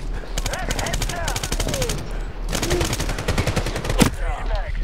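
Automatic gunfire rattles in long rapid bursts in Medal of Honor on hard difficulty, loud and continuous, with a player's shouted voice over the shooting.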